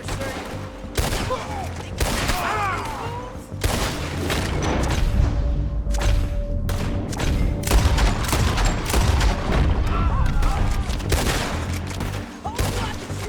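Gunfire in the Western video game Red Dead Redemption 2, rapid overlapping shots and booms in a sustained shootout, with voices and game sound underneath.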